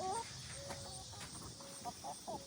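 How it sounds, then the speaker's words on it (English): A small backyard flock of four chickens clucking in their coop, faint and a few paces away, with short scattered clucks over quiet outdoor background. "Here's our chicken coop and our little flock of 4 chickens"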